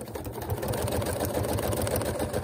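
Sewing machine running steadily at a very small stitch length while stitching the edges of fabric appliques on a scrappy orange peel quilt, a close, continuous rhythmic whirr with no talking.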